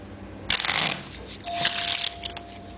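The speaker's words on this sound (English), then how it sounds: "the deck can be shuffled," A deck of playing cards is shuffled close by during a card trick, two quick riffling bursts of crisp fluttering clicks, moderately loud in a quiet room with no speech.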